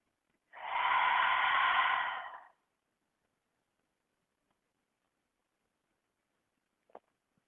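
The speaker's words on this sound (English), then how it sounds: "3 breaths into the pelvis." A single long, deep breath through the nose during a yoga practice in Malasana, the yogi squat, lasting about two seconds, followed by silence and a small faint click.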